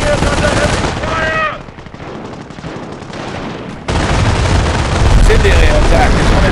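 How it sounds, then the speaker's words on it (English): Dense video game gunfire and explosions rage in a Company of Heroes Falaise Pocket battle, with a near-continuous loud barrage that briefly eases midway before surging again, while soldiers' voices shout over the fighting. "Grenadiers under heavy fire!"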